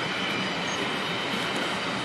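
An empty Rumo cellulose freight train in São Paulo state rolls past, a steady, loud roar of wheels and cars on rails with faint squealing, continuous throughout and without talk.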